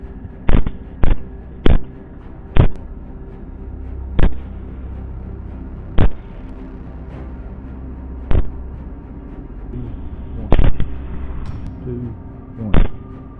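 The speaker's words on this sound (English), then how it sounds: "I focused on the biggest hog to the right. Took aim. Headshot." Gunshots fired during a wild boar hunt in dense woods, about a dozen sharp loud cracks at irregular intervals, some in quick pairs, standing clearly above a low background of wind and movement.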